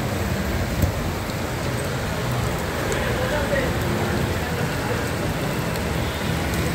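Rain on a flooded street in Dhaka, a continuous hissing downpour mixed with the low rumble of passing vehicles, steady and near with a few faint knocks.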